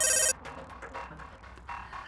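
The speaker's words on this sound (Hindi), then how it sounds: "तभी फोन आता है।" An electronic telephone ringtone sounds in a short, loud burst at the very start, then cuts off into quieter background sound in a Hindi cartoon story.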